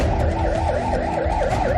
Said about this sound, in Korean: 다급한 사이렌 소리와 함께 응급실로 급히 들어오는 구급차